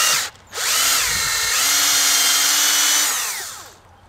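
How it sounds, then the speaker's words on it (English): Power drill with a 5/16 inch bit boring into a maple tree outdoors, a close, loud whine that briefly stutters at the start, then holds a steady rising-and-settling motor tone for about three seconds before spinning down. "I actually have my 5/16 inch bit in, and there's already sap flowing out of this baby, but I'm just gonna drill this really quick."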